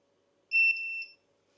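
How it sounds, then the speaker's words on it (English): A sous vide cooker bleeps once as it reaches temperature, a single clear electronic beep lasting about half a second against a quiet room. "once the sous vide's up to temperature, it'll send me a notification and the machine itself will bleep"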